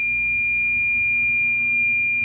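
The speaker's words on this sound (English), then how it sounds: "if that little tone's beeping really super fast, you have a high SWR" A single steady high-pitched electronic tone from the SWR meter of a President Richard II CB radio sounds continuously, clean and unwavering, over a faint low hum.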